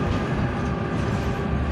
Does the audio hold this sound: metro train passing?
yes